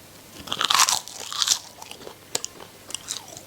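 Crispy sea-seaweed snack is bitten and chewed close to the mic, giving several loud, sharp crunches followed by quieter crackling chews spaced through the moment, with no speech.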